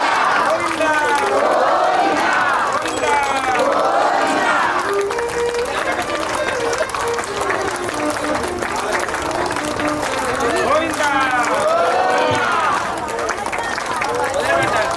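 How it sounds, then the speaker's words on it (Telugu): A festival crowd at a Sri Sitarama Kalyana Mahotsavam wedding ceremony claps with both hands during a dance, a dense continuous patter mixed with cheering and chanting voices over a steady hubbub. "ఈ నృత్యం జరుగుతుంటే చక్కగా రెండు చేతులతో చప్పట్లు కొట్టాలి."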